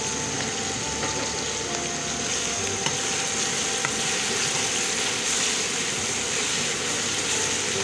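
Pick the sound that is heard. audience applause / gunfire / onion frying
onion frying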